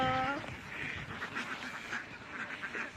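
A flock of about 2,000 ducks quacks repeatedly, many overlapping calls at moderate distance over a soft background hum.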